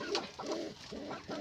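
Breeder pigeons coo softly in a cage, a few low repeated coos close by with no talking.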